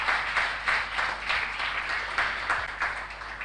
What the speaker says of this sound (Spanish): Damos un aplauso al Rey.